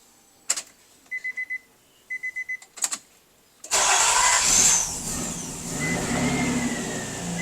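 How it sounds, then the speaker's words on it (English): A Nissan Murano is started after a fuel pump replacement: a few clicks and dash chimes, then the starter cranks and the engine catches with a loud rev before settling into a steady idle, recorded close. "I'm gonna try to start it and see how we're doing."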